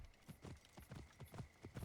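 Steady clip-clop of horse hooves in Assassin's Creed Origins, a regular trotting rhythm of hoof strikes, moderately close, with no talking.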